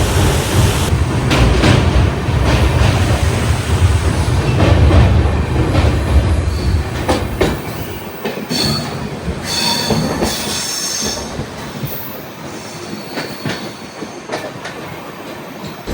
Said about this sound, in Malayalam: ഡാമിൻ്റെ തൊട്ട് സൈഡിൽ കൂടെ നമ്മുടെ ട്രെയിൻ പോകുന്നതുകൊണ്ടോ.